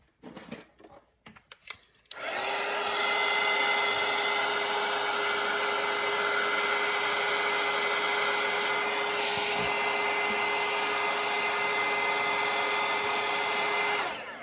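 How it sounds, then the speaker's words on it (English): A hair dryer drying watercolour paint switches on after a few faint knocks and blows steadily and loudly, a constant whirring drone that continues until it cuts off near the end. "where's my dryer? I'm going to dry this first."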